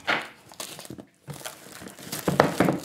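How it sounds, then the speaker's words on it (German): Plastic shrink-wrap film being peeled and torn off an Apple TV 4K box, close and crinkly in short bursts with a brief pause partway through. "packen wir das Ganze doch mal aus und dafür müssen wir zuerst diese unschöne Folie entfernen."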